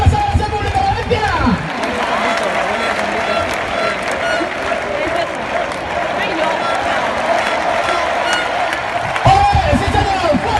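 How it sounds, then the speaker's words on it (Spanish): A crowd at a bull-dodging contest in a Valencia arena claps and cheers loudly while an announcer shouts over them, with bursts of applause near the start and end. "El aplauso para el Rata"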